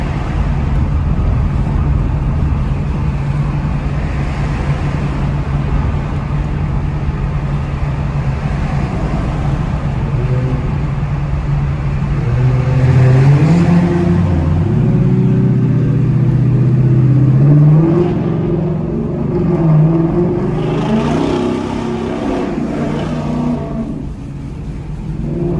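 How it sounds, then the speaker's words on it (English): Ford Mustang GT engine at full throttle, a loud continuous roar with low droning harmonics that climb and surge midway through while cutting through traffic, steady throughout with no talking. "been full throttle, man. Thing's loud."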